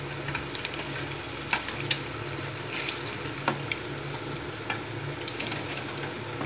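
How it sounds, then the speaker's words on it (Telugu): Pieces of egg fry in a pan while being stirred, a steady close sizzle broken by repeated scraping and clinking strokes of a spatula. "అలా కదుపుకుంటూ ఉంటే లోపల వరకు బాగా వేగుతుంది కదండి."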